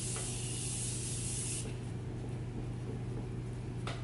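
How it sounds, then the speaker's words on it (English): Morphe Continuous Setting Spray mists onto a face in a fine, steady hiss. A long close spray fades into a softer one, then a short final burst, with no talking. "I'm going to set my face using Morphe's Continuous Setting Spray."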